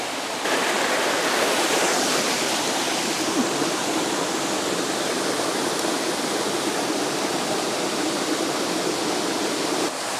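A forest waterfall in Ireland and its stream run with heavy flow, giving a steady, loud, broadband rush of falling and churning water that holds constant throughout with no voices.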